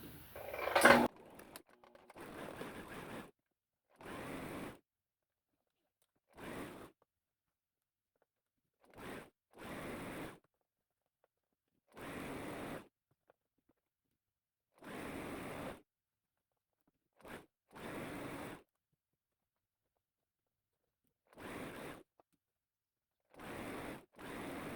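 Sewing machine running in repeated short bursts as a stretch band is stitched onto a knit top at a half-inch seam allowance, each run a few seconds long with quiet pauses between, close and moderately loud.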